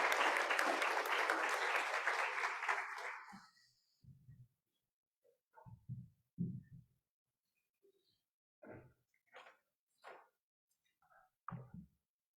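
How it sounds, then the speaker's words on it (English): Audience applause at a 2023 mental health symposium fills the opening seconds as dense, steady clapping, then thins and fades out, leaving a near-silent room with a few scattered soft sounds. "So please give them a round of applause."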